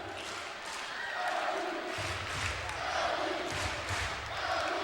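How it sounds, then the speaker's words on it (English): A crowd chants "LU" in rhythmic, repeated bursts at a sold-out Alumni Gym during a 2010 NCAA men's volleyball match between Loyola and Ohio State, loud and roomy, with announcer talk over it. "LU chant fires up from the crowd"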